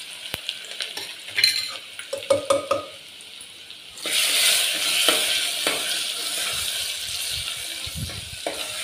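Crushed garlic cloves are dropped into hot oil and sizzle and crackle steadily. A few clinks and stirring scrapes of a utensil come first, then the frying hiss continues up close with no talking.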